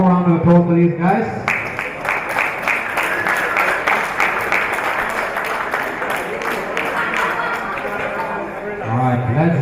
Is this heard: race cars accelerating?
no